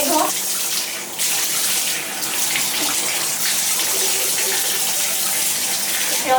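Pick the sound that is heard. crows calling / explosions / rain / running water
running water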